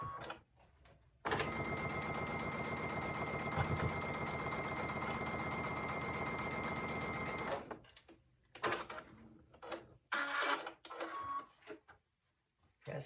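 A sewing machine stitching strips of quilt fabric runs in one steady, rapid mechanical chatter for about six seconds, then stops and gives way to scattered short bursts and handling sounds.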